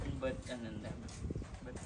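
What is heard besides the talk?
No everyday noise stands out behind the speech.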